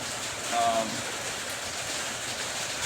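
Steady rain patters on a bare, uninsulated steel garage roof, with drops from surrounding trees adding to it, a dense continuous hiss with a faint tone briefly in the middle.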